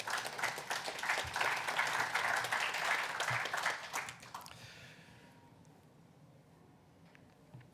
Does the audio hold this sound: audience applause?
yes